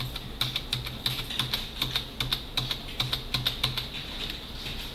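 Computer keyboard typing while working in a design program, with brisk, evenly spaced keystrokes and shortcut presses clicking close and clear throughout, no voices.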